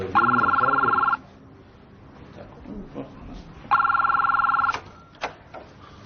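A telephone rings at home in an Iranian comedy film, giving two long electronic trills about two and a half seconds apart, loud and close, with quiet room noise and a few soft knocks between them.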